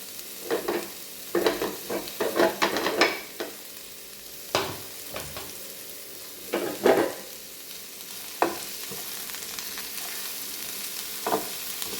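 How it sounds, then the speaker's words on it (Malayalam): Ivy gourd and curry leaves stir-fried in a pan for a Kerala-style fry give a constant sizzle broken by repeated bursts of scraping and tossing, close up with no talking. "കറിവേപ്പില എല്ലാം കൂടെ ഒന്ന് ചിക്കി കൊടുക്കാം."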